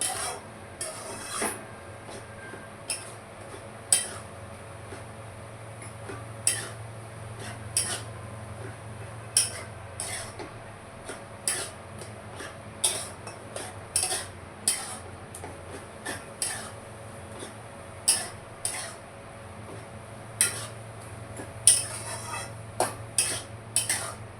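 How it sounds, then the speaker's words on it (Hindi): A spoon scraping and clinking steadily against a pan as a sweet made from bottle gourd is stirred continuously, with repeated sharp metallic taps over a low steady hum; no one speaks. "अभी इसको अपन बहुत सुतराएंगे, हिलाते रहेंगे कंटिन्यू"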